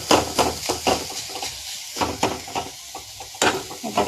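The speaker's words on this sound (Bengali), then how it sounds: "এটা পেঁয়াজ ভাজা হচ্ছে।" Onions fry in a pan as a spatula repeatedly scrapes and knocks against the metal in an uneven rhythm, with a soft sizzle underneath.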